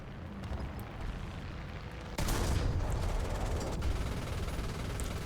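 Gunfire in a battle royale video game, a sudden loud shot-like burst cutting in midway over steady low background noise, with a fainter crack following.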